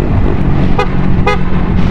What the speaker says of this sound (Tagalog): Bubusina lang tayo.